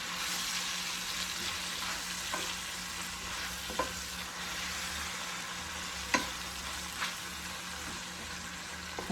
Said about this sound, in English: we are just going to stir that around until it begins to wilt